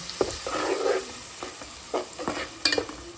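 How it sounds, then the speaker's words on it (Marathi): Masala paste frying in oil in a home kitchen while crab stuffing is prepared, giving soft, uneven sizzling with a few stirring scrapes and clicks close by. "फ्राय करून घेऊ तेलात"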